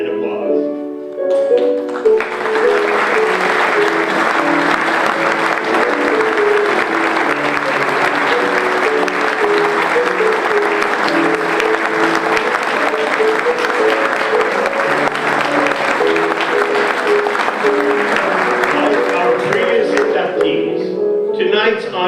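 Sustained applause from an evening banquet audience honoring award recipients at their tables, building quickly and holding steady and loud for about twenty seconds before tapering off.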